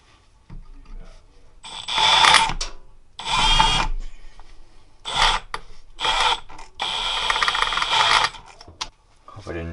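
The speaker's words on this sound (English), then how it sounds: "I guess I'll just have to drill it out big enough to clean the threads out." Power drill boring out a stuck bolt on a Kawasaki KZ750 Keihin carburetor, in short, close, whining bursts separated by brief pauses.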